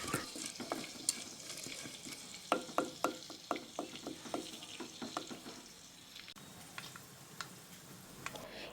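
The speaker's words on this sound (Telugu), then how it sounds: "ఇందులో కొంచెం జీలకర్ర, ఆవాలు వేసుకొని ఇవి బాగా వేగేంత వరకు వేయించుకోవాలి" Chana dal, cumin and mustard seeds fry in hot oil for an amaranth leaf curry, giving a steady crackling sizzle with frequent sharp ticks and scrapes of stirring, close and fairly quiet, with no talking.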